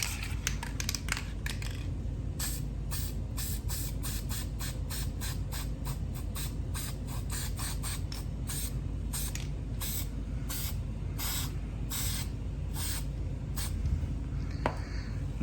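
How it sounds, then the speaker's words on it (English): Aerosol grease sprayed onto a carburetor gasket and its mating surface on an old 660 chainsaw, in a quick series of sharp hissing bursts over a steady low background rumble, with no talking. "So I'm gonna spray a little bit of this on here"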